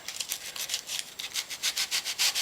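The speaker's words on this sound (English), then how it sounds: "I'm also going to get a bit of sandpaper and just go down the board" Folded sandpaper rubs back and forth along a board in quick, even strokes, a close, steady rasping rhythm with no talking.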